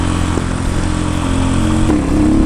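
A Keeway CR152 motorcycle engine drones steadily and close up while ridden off-road over rocky trail, with a continuous loud mid-pitched hum and slight shifts in revs.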